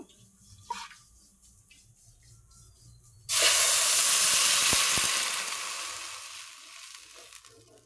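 Mung dal fritters drop into hot oil in a pan and set off a sudden loud, steady sizzle that slowly eases in intensity after a quiet start with faint kitchen clatter.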